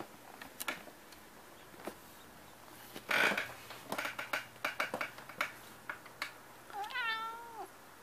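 A kitten indoors gives one clear, close meow near the end, after scattered light taps and clicks from handling and movement around a room.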